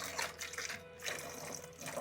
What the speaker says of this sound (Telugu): ఈ బాటిల్లో నీళ్లు నింపి